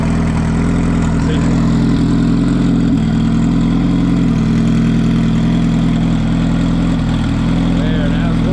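A Honda Civic engine idles as it warms up, holding a steady, loud, low rumble close by with little change in pitch.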